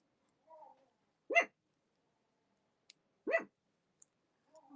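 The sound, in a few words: dog barking at a delivery man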